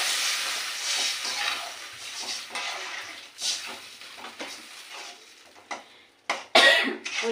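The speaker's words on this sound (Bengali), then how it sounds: "দেখুন জল দিয়ে দিই।" Water poured into a hot pan of yardlong beans and fish sets off a loud, bright hiss that slowly fades, followed by a few sharp clatters near the end.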